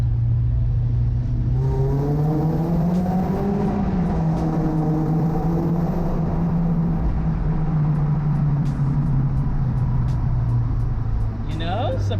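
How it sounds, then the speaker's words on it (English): A BMW E36 318is four-cylinder engine revs up and holds, its rising and sustained drone loud and close, continuing steadily for several seconds. "Let's see how this little four banger sounds."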